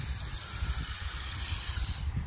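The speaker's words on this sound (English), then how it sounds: "So basically, I can just come here and spray water." A garden water hose sprays water steadily at close range in a backyard chicken run setup, a continuous broad hissing rush that cuts off abruptly at the end.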